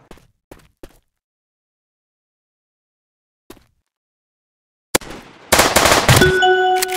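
Gunfire in an online multiplayer gun-game shooter: a few faint isolated clicks, a long silence, then a sharp shot followed by a loud, sustained clatter of firing with ringing metallic tones.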